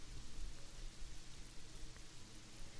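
Steady rain falling in a visual novel game scene, a dense, even hiss of drops without pause, with no voices over it.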